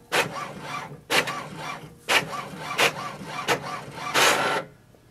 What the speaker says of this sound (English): it will send a command for the printer to print the page